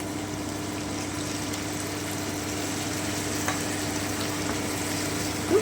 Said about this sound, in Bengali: এবারে আমি খুব সামান্য একটু জল দিয়ে দিচ্ছি